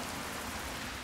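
Steady hard rain at night in the video game Fallout 3, a dense, even hiss of falling water that fills the short stretch with no pauses or talk.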